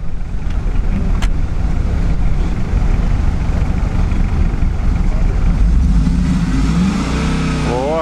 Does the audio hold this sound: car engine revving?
yes